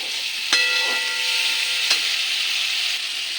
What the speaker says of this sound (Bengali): টমেটো একটা কেটে রেখেছি ওটা দিয়ে দেব টমেটোটা মশলার সঙ্গে মিশে নেই